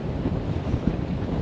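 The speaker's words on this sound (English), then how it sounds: "sometimes it sounds like the water is trying to get into the boat" Sea water sloshing and thudding against a sailboat hull, heard from below deck on a solo Atlantic crossing from Bermuda to the Azores; a steady, muffled low rumble with soft irregular knocks throughout.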